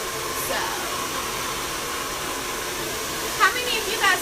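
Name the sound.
hair dryer with attachment blowing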